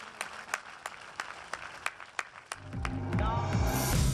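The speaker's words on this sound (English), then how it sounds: "A thundering round of applause towards the culmination of this phase." Audience applause at a gold medal award ceremony: a few scattered, separate hand claps at an irregular pace, after which music rises and takes over.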